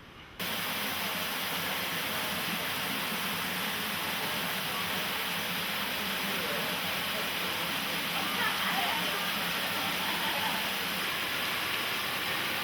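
Caveman waterfall at Twin Falls on the Hana Highway, Maui, pours into a pool in front of a cave, making a steady, loud, broadband rushing roar that fills the whole stretch without pause.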